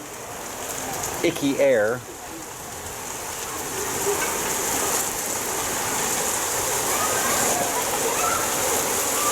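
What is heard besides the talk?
hail falling outdoors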